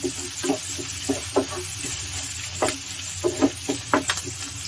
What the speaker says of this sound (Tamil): ஃபைனாக சாப் பண்ணி வச்சுருக்கிற ஒரு மீடியம் சைஸ் ஆனியன் ஆட் பண்ணிக்கலாம்